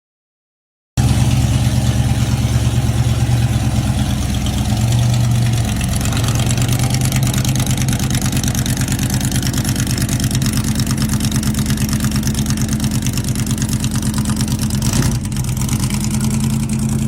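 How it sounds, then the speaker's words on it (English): A 1966 Chevy Corvette with a GM crate 454 big-block V8 rated at 438 horsepower idles loud and close, a deep lumpy burble that holds steady throughout, with a brief blip of revs near the end. "Under the hood is a GM Crate 454,"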